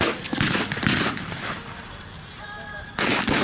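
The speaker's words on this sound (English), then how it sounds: "The Germans haven't finished with the mortars yet either." Mortar shells exploding at a WWII battle reenactment at Sedgefield, loud booming blasts in a burst at the start and again near the end, with rumbling between them and outdoor crowd ambience.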